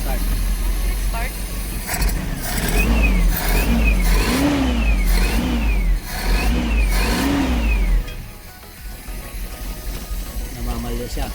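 Toyota Hi-Ace van with a 1RZ carburetor engine cranks and starts, then revs up and down in several rising and falling surges before settling to a rough, uneven idle, loud and close with voices talking over it.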